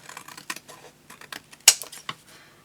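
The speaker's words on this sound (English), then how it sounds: "let's cut down the side and across the top" Scissors cutting scraps of paper card for handmade cards, giving a few quiet snips and rustles with one sharper, louder cut near the middle, no talking.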